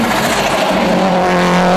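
A 600-horsepower Subaru Formula race car engine roars loud and steady at high revs, a continuous sustained drone with no pauses.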